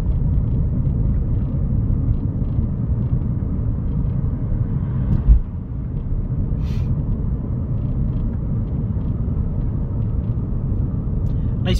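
A Seat Leon being driven at town speed, its steady low engine and road rumble filling the cabin throughout, with one brief thump midway and no knocks or rattles.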